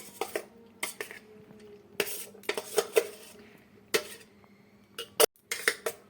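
Pasta stirred into white sauce with vegetables in a pan, a utensil knocking and scraping against the metal in irregular close clinks and scrapes, no voices.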